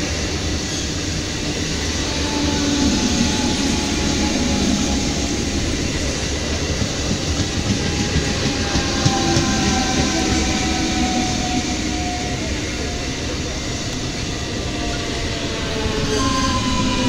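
A local train passes through Chandannagar railway station, a continuous loud rumble and clatter of wheels on rails that runs for the whole stretch with no talk.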